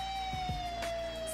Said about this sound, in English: I'm gonna put the siren on.